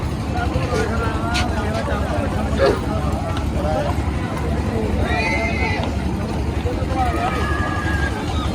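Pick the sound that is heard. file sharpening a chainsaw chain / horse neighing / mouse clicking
horse neighing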